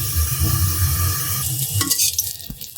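Chicken nugget mixture, a small uncoated test piece, frying in hot oil in a home kitchen, giving a steady close crackling sizzle that thins out toward the end with a few light clinks.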